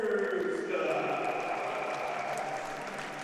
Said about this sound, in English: And we can hear the applause.